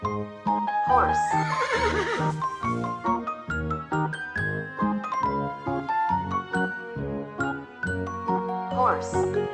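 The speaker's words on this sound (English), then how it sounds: "horse," A horse whinnies twice, once near the start and again at the end, in a children's farm-animal sound clip, the calls riding over a steady bed of bright, tinkly music.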